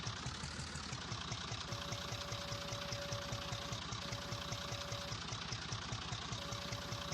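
A tractor doing yard scraping in Farming Simulator 19 runs with a steady, rapid knocking engine chug and an occasional faint tone, close and continuous with no talk.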